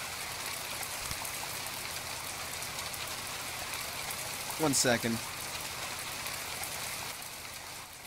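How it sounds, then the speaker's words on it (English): Steady loud rain drumming on a surface throughout, with a short burst of speech briefly rising over the downpour. "the rain is actually quite loud and gets in the way at times"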